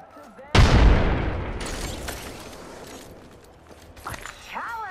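A frag grenade explodes in a video game, one loud close boom that rolls off into a long rumbling decay, with game noise and voices afterward.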